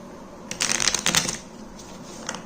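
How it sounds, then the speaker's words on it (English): A deck of playing cards is riffle-shuffled in a couple of quick, crisp bursts, close up and fairly quiet, with no talking. "I am going to have a spectator shuffle."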